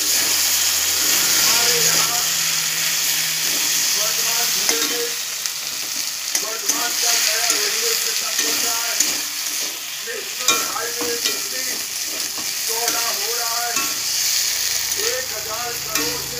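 Potatoes and pointed gourd frying in a cooked-down spice paste, a steady broadband sizzle with stirring clatter and scrapes throughout, recorded up close.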